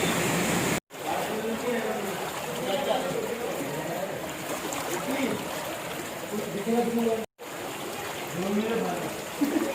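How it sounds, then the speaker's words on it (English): Water trickles and streams from small holes in the stones inside Robber's Cave (Gucchupani) near Dehradun. The flow is steady and close, under voices talking throughout. "Water is flowing from small holes in the stones."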